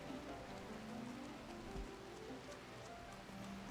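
Steady rain pours in the Rim of Time video game, a dense, even hiss of drops on surfaces that holds at the same level throughout, with no voices.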